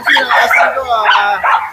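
Dogs for sale at the Grotto pet market, yipping and barking in short bursts close by, mixed with people talking over them.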